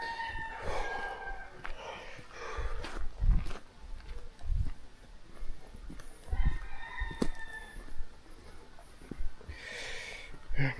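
A rooster crows several times in a mountain community on St. Thomas, the calls rising clearly over rustling ambient noise and soft bumps of movement, fairly distant rather than close.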